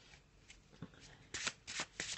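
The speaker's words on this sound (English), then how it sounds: "Let's give them a shuffle and we can draw our card for the day." Soft riffling and flicking of tarot cards being shuffled, quiet at first then a few louder bursts near the end.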